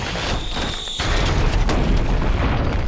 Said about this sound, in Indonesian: Tapi karena ledakan tersebut juga, pesawat tersebut juga jatuh